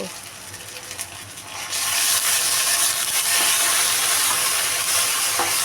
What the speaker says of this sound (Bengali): ভাজা হয়ে গেলে আমি এখানে এক টেবিল চামচ আদা রসুন বাটা দিয়ে দিব